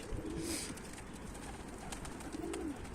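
Pigeons coo softly twice, low throaty calls a couple of seconds apart, over a steady background hum.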